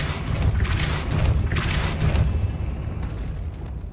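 In the video game Hogwarts Legacy, the Depulso spell goes off as a series of deep booming, rumbling bursts that swell and fade over a few seconds, with no voice heard.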